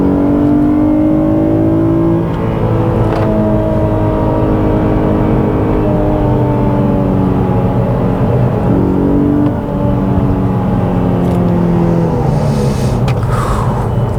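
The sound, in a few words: Infiniti G37s manual sports car driving around curves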